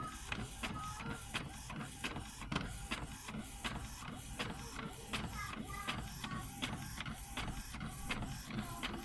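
An Epson L360 inkjet printer running after an ink pad reset, giving a steady, rhythmic mechanical chatter and shuffling of the print head and feed, faint and continuous with a soft voice underneath.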